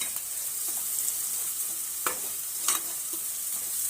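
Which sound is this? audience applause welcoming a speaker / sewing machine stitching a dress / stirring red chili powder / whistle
stirring red chili powder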